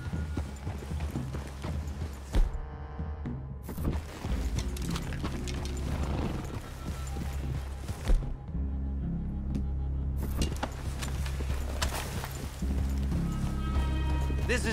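Horses' hooves clip-clop steadily in a Western-themed video game, a continuous rhythmic clatter over a busy, layered game soundscape with occasional louder thumps.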